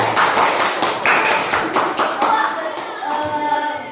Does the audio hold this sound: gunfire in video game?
no